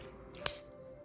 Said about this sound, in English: So I'm going to stick some tape down.